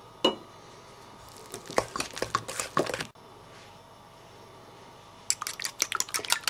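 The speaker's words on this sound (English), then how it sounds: "Now add your butter and mix that in." Butter is mixed into a mixture in a bowl, giving wet clicking and squelching bursts in two close bouts separated by a quiet pause.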